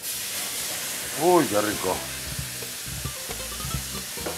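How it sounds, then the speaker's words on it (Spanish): A splash of pisco hits a hot frying pan holding corvina and sizzles loudly at first, then settles into a steady frying hiss while a voice speaks briefly over it. "ahora le echamos un chorrito de pisco"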